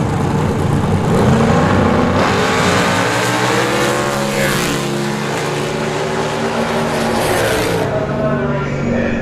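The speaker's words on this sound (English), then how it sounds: "Good pass there for the Mustang with bullhorns." A Mustang drag racing car fitted with bullhorns makes a pass at a drag strip, its loud engine roaring and revving through rising gear pulls, close and dominant throughout.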